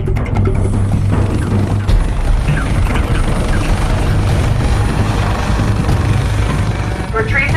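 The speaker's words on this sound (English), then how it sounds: "the hero drone will be approaching momentarily" A delivery drone approaches on a medical kit delivery, giving a steady whirring, buzzing rotor drone that stays loud and constant throughout, with a rushing wind-like noise over it.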